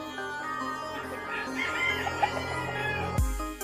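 Chickens clucking and crowing during a hot-season bath, a steady run of close fowl calls ending in a sudden loud thump and rustle.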